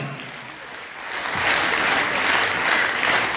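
Audience applause for the director and choreographer of a dance studio at its fifth-anniversary concert, a broad, steady wash of clapping that swells after the first second and holds loud to the end.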